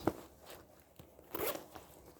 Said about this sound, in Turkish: Şöyle bir tane fermuar var. Buradan çekiyoruz.